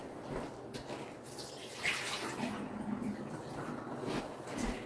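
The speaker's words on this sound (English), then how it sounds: "I'm going to take it to the sink, empty the water out of it" Water pours and splashes into a sink as a canning jar that held butternut squash is emptied, a continuous close wash of running and gurgling water without speech.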